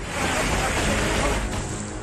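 Swollen monsoon streams rush across roads in Bageshwar district during continuous rain: a loud, steady, broadband roar of flowing water that fills the whole stretch without a break.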